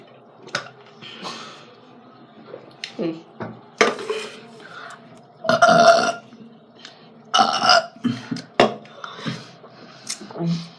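A child burps several times in a row, loud and close, among clinking dishes and cutlery, with other people talking around the burps.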